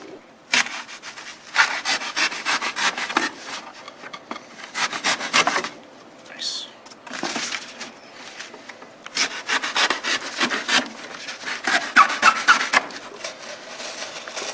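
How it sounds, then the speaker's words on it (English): A TOPS MSK 2.5 knife saws through nylon rope and webbing in repeated rasping strokes that come in bursts with short pauses, close and fairly loud, with no talking. "The MSK goes through nylon rope and webbing."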